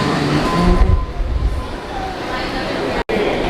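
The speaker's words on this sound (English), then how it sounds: "I can hop on the monorail and get to the Contemporary that way" Disney monorail train rumbling and humming along its track at a resort loop, loud and close, with people talking over the ride noise.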